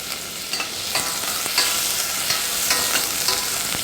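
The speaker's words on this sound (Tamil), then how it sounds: "இப்போ வெங்காயம் நல்லா வதங்கணும்" Onions sautéing for kulambu sizzle steadily in a pan while a spoon stirs them with repeated scraping strokes, close and fairly loud, and no one speaks.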